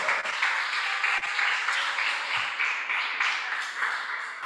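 Church congregation breaks into lively applause, dense clapping held steady for several seconds with a few sharp claps standing out.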